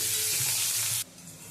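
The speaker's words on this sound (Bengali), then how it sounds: "আলুটাও ভেজে নেব।" Cut potatoes seasoned with turmeric and salt fry in hot oil, a loud dense sizzle that holds for about a second, then drops abruptly to a much quieter crackle.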